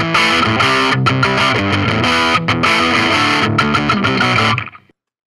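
Heavily distorted electric guitar plays a chugging riff of loud, buzzy chords, ringing out and then cutting off abruptly near the end.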